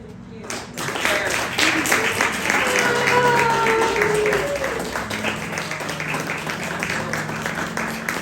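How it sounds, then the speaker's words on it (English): A small audience at a birthday poetry reading claps warmly for the poet, a steady patter of hands that builds and then tapers, with voices and cheering mixed in over it. "if we could all just give her a huge applause and a happy birthday, girl"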